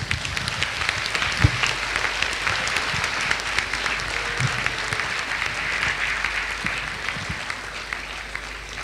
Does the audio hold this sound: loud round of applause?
yes